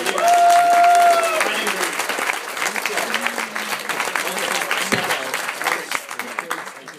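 Wedding guests applaud after the couple are pronounced man and wife, a dense round of clapping from a crowd in a room, with a brief cheer or whoop near the start and steady clapping throughout.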